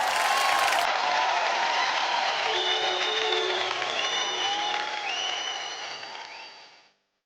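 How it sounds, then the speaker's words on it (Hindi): Loud applause and cheering from a talent show audience on stage, a thick continuous wash of clapping with whistles running over it, fading out toward the end. "तो जोरदार तालियों से स्वागत कीजिए।"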